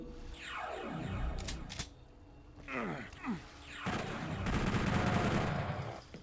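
Enemies fire guns nonstop in Doom 64, with rapid bursts of shots, whooshing projectiles and a dense stretch of sustained gunfire toward the end, no talking.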